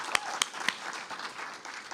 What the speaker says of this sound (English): Local artist Megan Hinton, big round of applause.